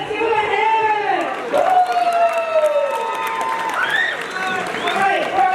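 Crowd at a high school spring rally clapping and cheering for a contest winner, loud and steady throughout, with whoops and shouts over a voice talking.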